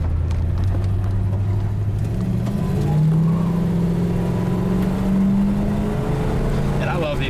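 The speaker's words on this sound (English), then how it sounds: "It just accelerates so nicely." A 1966 Pontiac GTO engine drones steadily under acceleration, a low rumble whose pitch climbs gradually over several seconds, heard from inside or close to the car.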